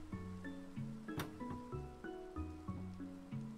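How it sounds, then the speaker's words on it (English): Steady rain in a Minecraft-style video game falls as a soft, constant hiss under louder looping game music with sustained melodic tones. "It's really drowned out by the rain."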